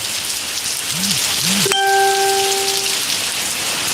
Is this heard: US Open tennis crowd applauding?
no